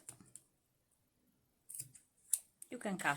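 Scissors snip through crochet yarn tails in two or three quick, close cuts after a stretch of near silence, with a soft voice speaking briefly near the end.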